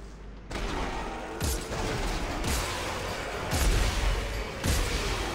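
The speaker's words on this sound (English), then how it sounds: "Shotgun's a bit slow on the shooting." Shotgun blasts from the video game Dead Space 3 come in four slow, booming shots about a second apart over a steady, dense background of game noise.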